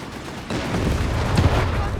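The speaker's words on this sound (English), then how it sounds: "Mines exploding here." Mines blowing up in Company of Heroes 3: a sudden rumbling blast bursts in after a quiet opening, then a sharper boom follows about a second later, with a commentator talking over the noisy battlefield.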